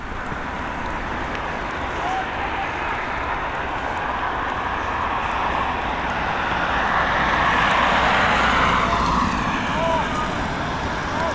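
A jet airliner on approach to a runway at Dublin Airport, its engine roar steady and broadband, swelling slightly louder as it nears and then easing off, with no other sounds standing out.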